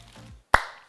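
Hands slick with onion juice give a single sharp, close clap after a brief moment of quiet.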